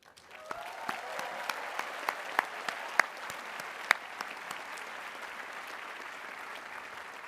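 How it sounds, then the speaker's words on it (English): Outdoor commencement crowd applauding graduates' families and friends, a broad even patter of clapping from a large gathering, a little distant, with a few sharper nearby claps standing out early on. "I'd like to ask everyone to join me in applauding our graduates' families and friends"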